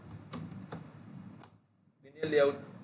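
Code being typed on a computer keyboard, a few sparse, close key clicks followed by a brief pause, then a short burst of faster typing with faint speech nearby.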